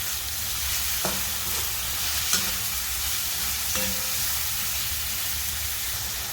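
Chopped onions fry in a pan for a Mughlai shahi egg curry, a steady close hiss and sizzle running throughout, broken by a few soft clicks of stirring.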